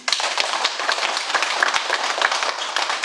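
An audience at a Buddhist sermon claps steadily for about three seconds, a dense, fairly loud patter of many hands with no one speaking over it.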